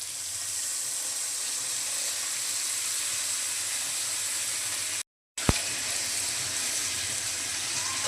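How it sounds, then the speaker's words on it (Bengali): Water poured into a pan of sizzling rohu fish-head muriGhonto curry gives a steady broad hiss and bubbling, cut by a brief gap and a sharp clank, with no talking. "এখন দিয়ে দেবো জল।"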